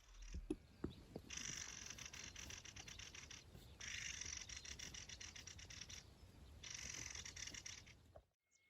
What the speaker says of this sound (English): I woke up to this bird.